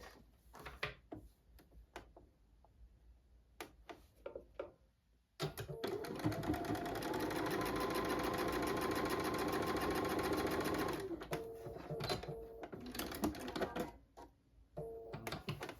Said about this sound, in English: Okay, so then I'm going to sew it right like that.